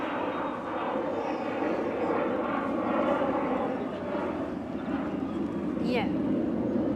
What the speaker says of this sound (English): Airplane! I have to film.